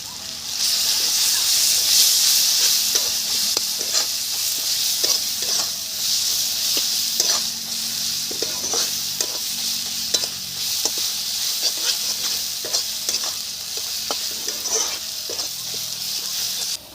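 Garlic paste frying in a pan for a fish curry, a loud, steady sizzle with repeated scraping stirs of a spatula at an irregular pace, close up, with no voices.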